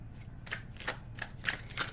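Tarot cards being shuffled by hand, a rapid series of crisp riffling bursts in quick succession, close and fairly quiet, with no voices.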